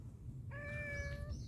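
A cat gives a single clear, drawn-out meow at close range, tonal and slightly rising, over a low background hum, with no talking.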